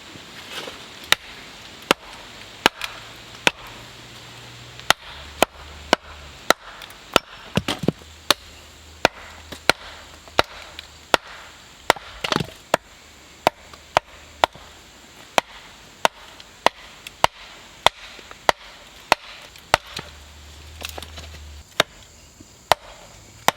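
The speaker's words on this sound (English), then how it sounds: "Go ahead and get on your knees and chop that way." Sharp axe chops strike wood at a steady, repeated pace, each blow a crisp crack over quiet outdoor background.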